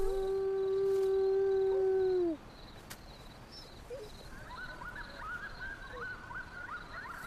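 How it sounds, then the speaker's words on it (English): Coyote howling: one long, loud, steady howl with rising overtones that breaks off, followed by fainter, jumbled yips and wavering howls from the pack further off. "They will howl, they will yap, they will use a fairly wide range of vocalizations."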